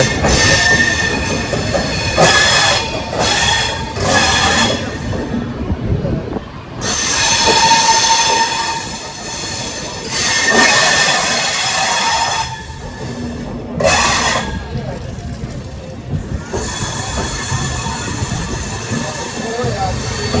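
A passenger train leaving Amritsar station rumbles along with a steady roar, bursts of hissing and squealing wheels, and voices talking faintly inside the carriage.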